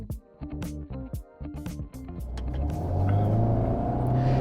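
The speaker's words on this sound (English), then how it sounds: "Each shift evokes pops and bangs from the exhaust" An Alpine A110 in sport mode accelerates through quick gear shifts, the engine note rising in short bursts broken by brief cuts and crackles from the exhaust, then settling into a loud sustained rumble.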